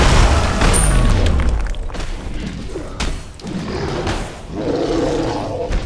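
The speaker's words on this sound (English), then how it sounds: "Your team has destroyed a left enemy tower." Enemy tower being destroyed in the SMITE video game, heard as a loud booming thud with a roaring rumble that opens the stretch and then thins into a lighter whooshing game din, with no talk over it.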